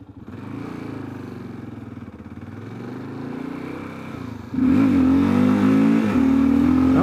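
A 2022 Kawasaki KLR650 with a 16-tooth front sprocket drones along the highway, then its engine note jumps louder and rises as it accelerates, wind rush beneath.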